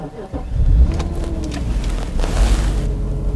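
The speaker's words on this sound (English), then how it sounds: "That's the noise of a V8 beast." A Mercedes-Benz W210 E60 AMG with its V8 engine runs close by, a deep steady rumble with a slight swell in revs, heard from inside or near the car.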